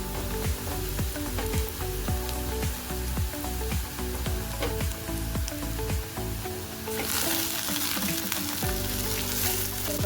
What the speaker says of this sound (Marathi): आता मी भाजी टाकून घेते.